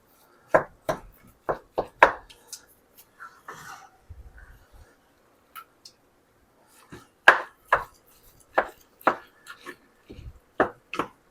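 A knife chops through food on a board in crisp, close, irregular strikes, with a quick burst of cuts, a pause with soft handling noise, then another run of firm chops.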